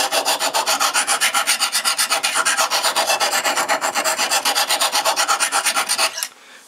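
A knife is drawn repeatedly across the stone of a Lansky sharpening system set on a table, giving a steady, fast rasping rhythm of close, loud strokes that runs continuously and stops abruptly near the end.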